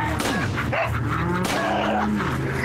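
A dog in the Resident Evil 4 VR video game gives a few sharp close barks and yelps over a busy game backdrop with low background voices.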